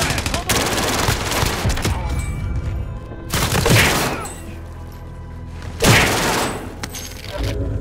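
Sustained automatic gunfire in a shooter video game firing a PPSh submachine gun, loud rapid bursts and crackling volleys near the listener, with a couple of heavier impacts, under brief player voice chat.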